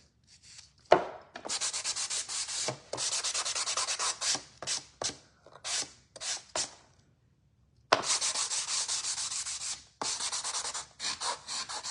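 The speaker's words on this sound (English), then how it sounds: "We'll use my little baby sander." A small electric sander works over a glass and resin art piece in repeated short bursts, its loud, gritty buzz starting and stopping in an uneven rhythm with brief silent gaps.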